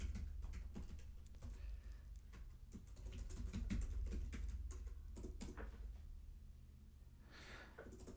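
Rapid keyboard typing clatters in irregular bursts over a low, steady background hum, close and moderately loud, with no voices.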